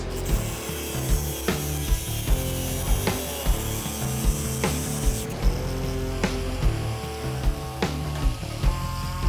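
Metal is cut for a custom car chassis in a garage, with loud, rhythmic rasping strokes and sharp repeated hits over a ringing metallic drone, and no talking.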